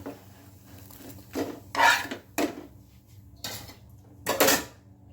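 A metal spatula scrapes across a hot pan as a potato-filled dosa is folded and lifted off, giving several distinct rasping strokes in irregular bursts, close and fairly loud, with no talking.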